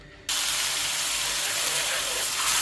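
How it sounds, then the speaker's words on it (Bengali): Oil poured into a hot pan for cooking shrimp with pui shak bursts into a loud, steady hiss that starts abruptly and continues unbroken. "তেল দিয়ে দিচ্ছি, একদম অল্প তেল দিব, সামান্য তেল।"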